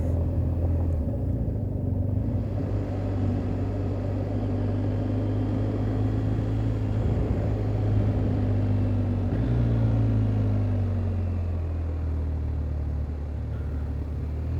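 A 2021 BMW R1250 GS Adventure motorcycle cruises along a road, its steady low engine drone mixed with wind rumble, the pitch dropping with a gear change near the end, with no talking.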